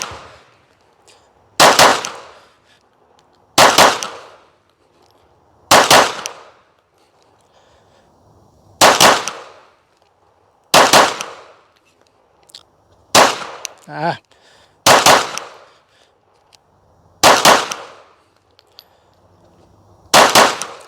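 A Glock pistol fires during a doubles drill: about nine sharp, loud, close reports, each ringing briefly, spaced by pauses of one to three seconds with no talk between them.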